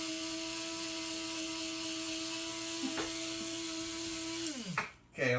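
A burr grinder whirs steadily as coffee beans are ground for a cappuccino, a sustained close motorized hum that winds down and cuts off near the end.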